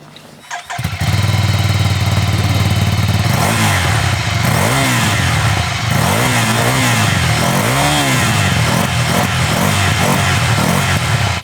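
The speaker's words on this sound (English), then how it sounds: "I'm getting more noise from the engine and the intake, I think, than I am from the exhaust, but still sounds nice." A 2023 Ducati Scrambler starts up and runs close by, its engine and intake noise louder than the exhaust, settling into a steady loud idle with several rising and falling revs and no talking.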